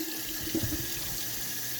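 Water runs steadily from a kitchen tap as tomatoes are rinsed, a continuous, even rush with an exhaust fan humming underneath and no pauses.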